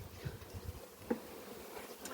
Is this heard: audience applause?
no